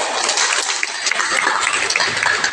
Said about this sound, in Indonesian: Tepuk tangan buat Tasikmalaya.